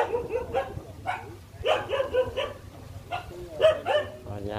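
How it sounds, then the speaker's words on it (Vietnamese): A pack of dogs at a home in Vietnam barks in repeated bursts of overlapping yips and woofs, fairly close, with a faint low hum beneath. "Ở nhà có một bầy chó"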